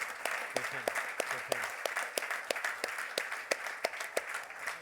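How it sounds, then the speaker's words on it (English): A small audience applauds at the close of a talk on eVTOL aircraft and new mobility, with sparse, distinct individual claps rising over a soft, continuous patter at moderate volume. "Applause to you."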